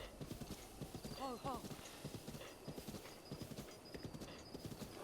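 Rhythmic hoofbeats of a horse in the video game The Legend of Zelda: Breath of the Wild clip-clop steadily while the horse lets out a brief whinny near the start, all fairly close; a voice talks intermittently underneath.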